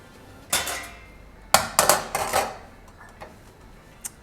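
A metal saucepan is picked up and handled in a kitchen while preparing a smoked bacon emulsion, giving several sharp clanks and knocks in a quick cluster, then a few fainter taps and a small ring near the end.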